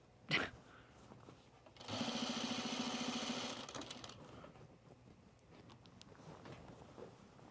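Sewing machine stitching a pajama waistband, a steady buzzing run of about two seconds after a brief knock, then quieter handling noises.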